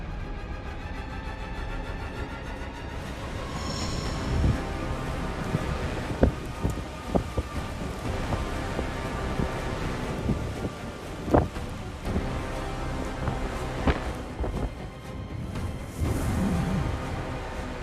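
Roaring wind from Typhoon Hinnamnor blows steadily with gusty buffeting and a broad rushing hiss, occasional sharp knocks and cracks breaking through the constant storm noise.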